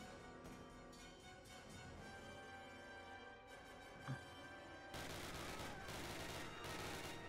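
Charlie's weapon fires in a Call of Duty battle scene, with scattered distant shots over ambient war sound and music, then a denser, louder volley in the last seconds.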